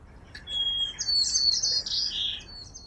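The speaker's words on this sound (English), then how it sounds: "these little sparrows took advantage of the break to reduce their sound volume by 4 decibels" Sparrows sing bright chirping phrases close by in a city, a sustained run of high trills and tweets over a quiet background.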